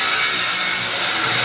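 A power saw cuts through wood at a house build site where a concrete pool path is being laid, a loud, steady, broadband buzzing and rasping that stays close and unbroken for the whole moment.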